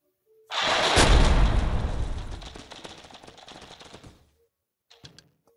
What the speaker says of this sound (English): I had a second explosion.